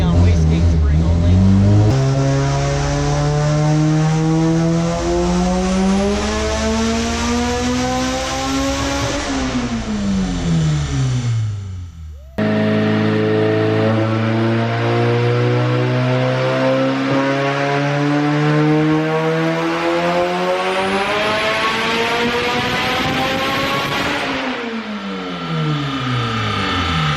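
Turbocharged Honda Integra engine on a dyno making its first pull on wastegate spring only, revving loudly and steadily climbing in pitch over about ten seconds, dropping off, then a second long climbing pull with turbo whine near the top.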